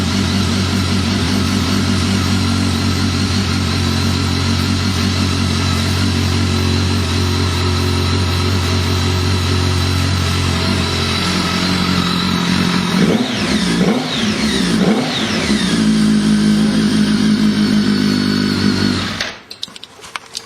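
A BMW K1200S motorcycle engine idles with a deep, steady rumble, revs up a few times, then cuts off abruptly at the end, close and loud.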